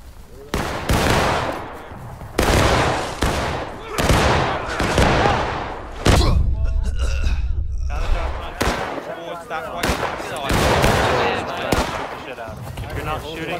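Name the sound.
musket volley fire in War of Rights video game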